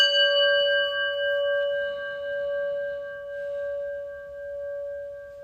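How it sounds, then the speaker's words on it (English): A prayer bell is struck once and its clear metallic tone rings out and slowly decays, sounding alone in a quiet room. "listen to the prayer bell"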